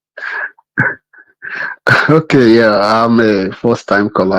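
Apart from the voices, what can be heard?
sneeze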